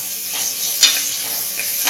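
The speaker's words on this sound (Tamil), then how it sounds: "அடுத்து தக்காளி சேர்த்தலாம். இதுவும் நல்லா வதங்கட்டும்." Tomatoes sauté in a pan for South Indian sambar, producing a steady, close sizzle with faint frying hiss and one small clink partway through.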